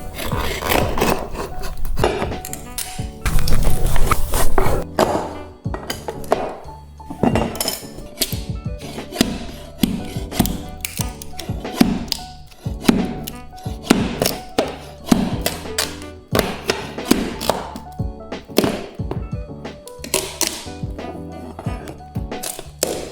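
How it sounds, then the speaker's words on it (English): An old wooden trim piece is pried off the floor during renovation of an 1880s cottage, with repeated close creaks, raspy scrapes and sharp knocks of wood in irregular bursts. "Maybe I'll take off this trim piece here first and then that'll let me get at the rest of it."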